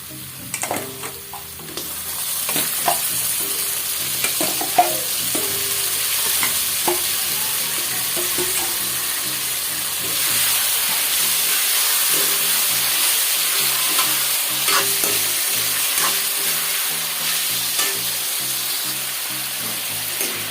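Chicken pieces frying in an open pan without a lid, with a steady close sizzle and repeated scraping stirs throughout, background music underneath.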